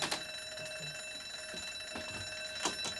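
An electronic alarm rings in a steady, high-pitched repeating tone, held continuously at moderate loudness in an indoor setting with no voices over it.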